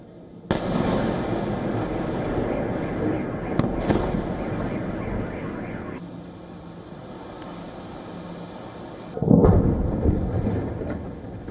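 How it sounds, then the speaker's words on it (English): A Russian missile and drone strike on Kyiv sets off a loud, sharp explosion, followed by a long rumbling roar and a second heavy blast near the end, heard at a distance over the city. "An eyewitness video captured a loud explosion jolting the city"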